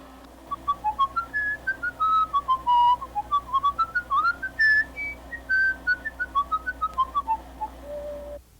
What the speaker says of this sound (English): And whistle again.